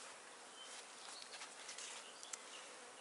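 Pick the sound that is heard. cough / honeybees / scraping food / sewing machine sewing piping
honeybees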